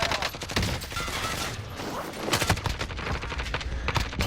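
Gunfire in Call of Duty Modern Warfare: repeated rapid bursts of shots crack out close and loud in irregular clusters across the clip, with faint talk beneath.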